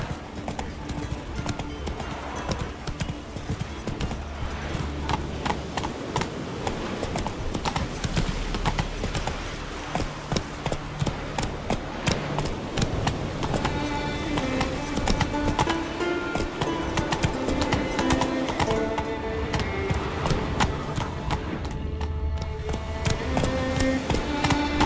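Roach, the horse in the Witcher 3 video game, clip-clops along in a steady rapid rhythm of hoofbeats with game music and ambience underneath.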